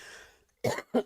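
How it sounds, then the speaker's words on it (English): A short, close throat-clearing cough in two bursts after a brief breathy sound. "Pardon me with the cough."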